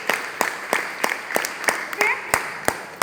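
Rhythmic hand claps come in a steady beat of sharp, evenly spaced strikes from an audience at an RCM marketing meeting in Karimnagar, with voices murmuring underneath.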